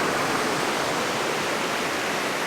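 Water flowing over rocks in an old growth forest in Oregon's Siuslaw National Forest, a loud, steady, dense rush filling the whole stretch without pause or voices.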